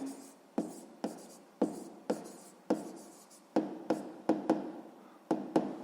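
Pen writing numbers on paper while solving a sixth-grade proportion math exercise, a close, quiet series of about a dozen sharp tapping strokes and short scratches in an irregular rhythm, with no voice.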